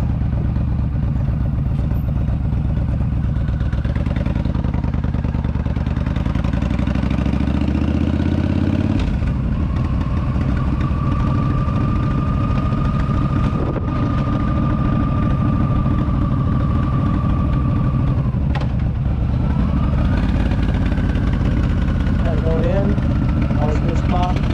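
Motorcycle engine humming steadily while riding through the historic town of Castine, Maine, a continuous loud drone with a shift in pitch partway through and wind rush, no talking heard.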